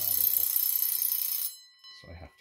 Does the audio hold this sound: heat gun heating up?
no